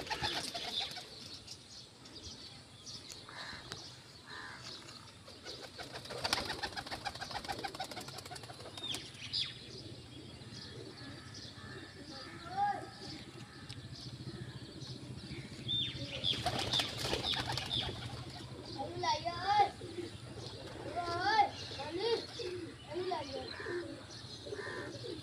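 Caught pigeons coo softly and flap their wings in bursts of fluttering, close by, with chirps and small calls scattered throughout and faint background noise.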